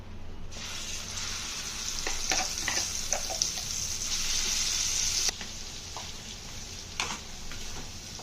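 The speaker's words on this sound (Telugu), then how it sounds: "ఆయిల్ హీట్ ఎక్కాక మనం ముందుగా గ్రైండ్ చేసి పెట్టుకున్న పేస్ట్ని ఇందులో యాడ్ చేసుకుంటున్నాను" Ground spice paste for a stuffed eggplant curry hits hot oil and sizzles strongly, with crackling bursts and stirring scrapes, close and continuous.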